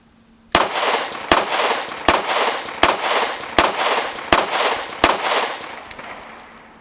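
Seven sharp gunshots from a Smith & Wesson M&P Shield X Carry Comp compact 9mm pistol, fired at a steady even pace, each loud crack trailed by a long echoing decay at an outdoor range.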